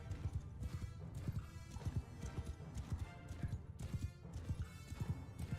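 Horses from mounted archers in the Bannerlord video game, a steady near clatter of galloping hooves with whinnies and neighs rising over the thundering battle din, no talk.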